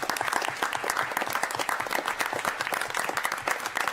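An audience at a city council meeting breaks into dense, sustained applause, a steady wash of many hands clapping with a faint voice or two underneath.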